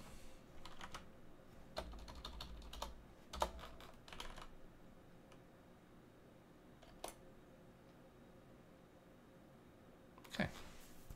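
Someone types on a computer keyboard in scattered, quiet bursts of keystrokes with pauses between them. One louder cluster of clicks comes near the end.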